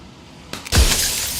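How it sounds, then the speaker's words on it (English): A mirror in the video game Slay the Princess cracks and shatters into glass shards: a faint crack, then a loud, close burst of breaking glass that rings on briefly. "And another crack forms, another and another, turning the mirror into jagged shards of broken light."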